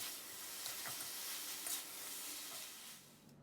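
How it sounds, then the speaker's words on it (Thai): Steady sizzling hiss of pork belly and vegetables stir-frying with chili powder in a hot pan, with faint scraping stirs, no voices, fading slightly at the end. "ผัดให้ผักของเราสุกสลด"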